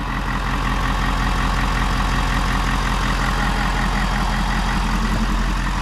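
A Ford Super Duty diesel truck engine idles steadily up close, a constant low rumble with an even rhythmic knock and no voices over it.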